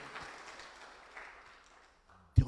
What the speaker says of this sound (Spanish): Dale palmas al Rey en esta hora.